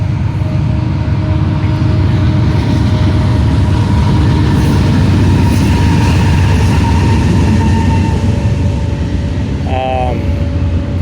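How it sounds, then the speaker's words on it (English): A freight train rolls past on railroad tracks, a loud, steady rumble of rail cars filling the whole clip, with a short wheel squeal near the end and a voice speaking over it. "we got a train going by."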